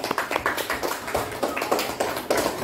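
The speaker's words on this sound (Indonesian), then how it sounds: "Tepuk tangan dulu untuk kelompok Garuda." A small classroom group claps for a student team in a short burst of separate, uneven hand claps, close and distinct, with no talking.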